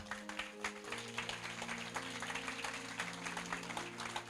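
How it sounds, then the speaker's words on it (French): A church congregation claps steadily together, with dense, continuous applause and a sustained musical tone underneath throughout. "acclamons Dieu très fort"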